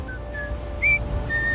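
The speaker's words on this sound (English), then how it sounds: "began to whistle" A few short, high whistled notes in an immersive audiobook of Treasure Island, breathy and clear, heard close over a quiet ambient bed with a faint steady tone.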